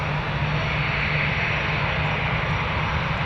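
Air Canada airliner jet engines at Toronto Pearson airport, a loud, steady broadband roar with a low hum running through it, continuous and without speech.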